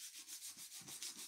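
Worn sandpaper rubbed by hand over wood, a soft rhythmic scratching hiss with steady back-and-forth strokes, faint and close, with no voices.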